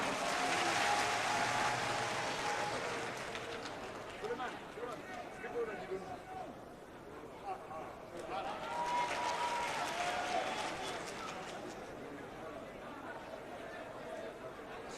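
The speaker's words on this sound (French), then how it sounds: "Je vous prie d'applaudir Madame Théa." An audience at a political party convention in Guinea gives a burst of applause and crowd chatter, loud at first, fading into murmuring voices and then swelling again.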